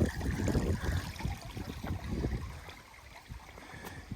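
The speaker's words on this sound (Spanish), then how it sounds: "la cascada, así se ve el spa." A small waterfall spills into a pool spa with a soft, steady splashing and trickling, faint and somewhat distant, with no voices.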